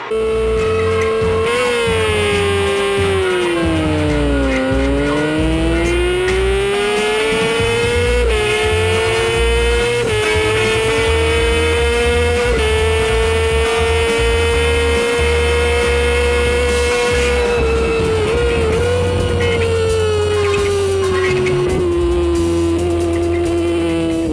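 Suzuki sportbike race motorcycles at full throttle at Race City in Calgary, a continuous loud engine whine that climbs and falls through gear changes as bikes pass, with several machines layered together and no pause.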